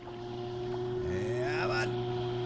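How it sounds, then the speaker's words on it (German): A fishing boat's motor runs steadily after being started, a continuous droning hum with a slight rise in pitch as the boat gets under way, with faint wind noise. "Also ab ins Boot. Zack. Motor anmachen und ab dafür."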